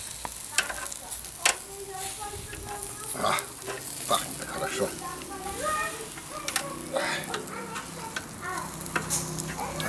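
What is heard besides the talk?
shashlik meat sizzling on grill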